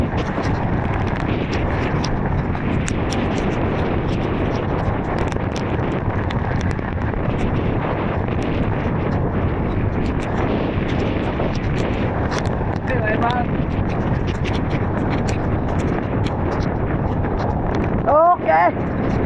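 Powerful storm wind at sea roars steadily against the microphone for the whole stretch, broad and rumbling, with a faint voice surfacing near the end.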